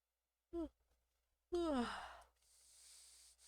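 A short voiced breath comes first, then after a pause a long, loud yawn slides down in pitch and trails into a breathy exhale, close to the mic in a quiet room.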